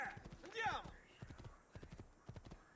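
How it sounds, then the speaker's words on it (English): Horse hooves clip-clop in Assassin's Creed II, a quick run of soft, evenly paced footfalls near at hand while a player talks over the opening and an exclamation briefly rises above the steps. "Let's go, horsey!"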